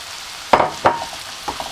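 Drained rice is tipped into a hot pan for mushroom pulao, giving two short sizzling bursts with scraping, followed by softer faint clinks and fizzing.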